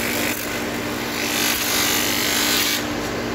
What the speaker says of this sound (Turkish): Yağlı zımpara yapacağız.